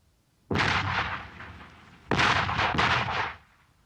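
Two loud, booming artillery shots during military training, each with a sharp onset and a long rumbling tail, the second following about a second and a half after the first fades.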